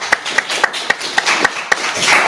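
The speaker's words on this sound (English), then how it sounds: "Give her a round of applause." Scattered hand claps from a small audience at a mayoral forum, sharp separate claps at an uneven rhythm over a low murmur.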